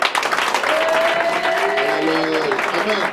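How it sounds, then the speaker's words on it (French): A church congregation at an evening evangelism service applauds and cheers continuously. The dense clapping holds loud and steady throughout, mixed with crowd voices. "Est-ce qu'on peut acclamer le Seigneur?"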